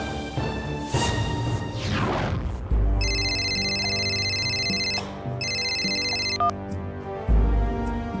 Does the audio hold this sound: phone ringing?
yes